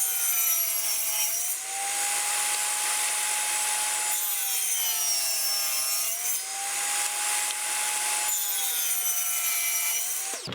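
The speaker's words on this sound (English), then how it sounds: "So what we need to do now is trim your width down to 11 inches" A wooden board is hand-sawn to width for a rabbit nesting box, with steady back-and-forth strokes that rasp loudly and continuously, close up, with no talking.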